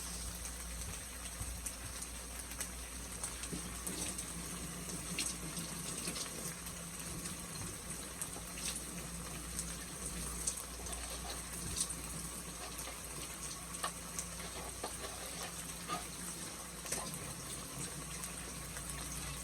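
Cold water poured into corn flour for a stir-fry sauce, a steady low gushing trickle that runs continuously with faint clinks, no voices.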